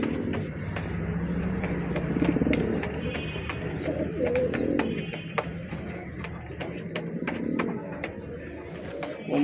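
Giribaj pigeons coo repeatedly in low, throaty rolls close by, with a voice speaking intermittently over them and light clicks and background traffic noise.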